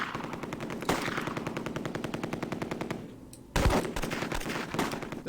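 Machine gun fire in the World War II tactics video game Close Combat, rapid sustained bursts of automatic fire, a short lull, then another loud burst with echoing reports.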